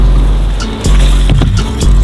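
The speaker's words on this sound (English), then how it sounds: "So I'm gonna take it on the box jump with my dirt bike." A 250 dirt bike engine runs loud and close, a steady motor drone with throttle surges near the middle and end as the bike hits a box jump.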